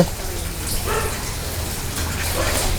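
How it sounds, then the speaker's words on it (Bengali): Steady rain pours down in a village, a dense, even hiss of drops on surfaces that holds at a moderate level throughout, with no voices. "রান্না বাড়ি হবে কিভাবে বৃষ্টি নামতেছে"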